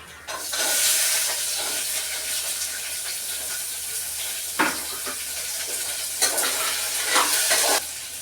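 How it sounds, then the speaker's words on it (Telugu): Whole garam masala of cardamom, cloves and cinnamon fries in hot oil in a pan for mutton curry, a steady close sizzle with a few brief clinks of spices or a spoon against the pan. "తర్వాత మనం హోల్ గరం మసాలా వేసుకుందాం. యాలప్పళ్ళు, లవంగాలు, దాల్చిన చెక్క."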